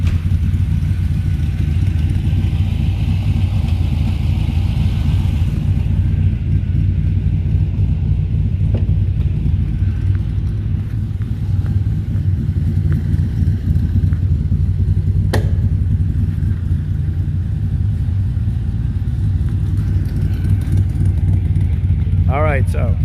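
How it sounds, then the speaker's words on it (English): A 1963 Corvette V8 engine running with a deep, steady rumble close by, occasional revs and clatter, while people talk over it. "this is the first time you've ever heard this car run"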